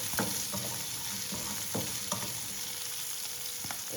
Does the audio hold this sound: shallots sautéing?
yes